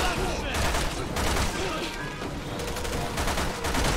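Dense, rapid gunfire crackles nonstop in a Resident Evil 6 zombie fight, a loud, chaotic burst of overlapping shots with game effects and a voice faintly underneath.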